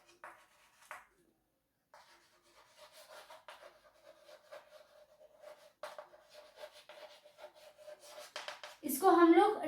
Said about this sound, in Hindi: मैं इसको रब कर रही हूँ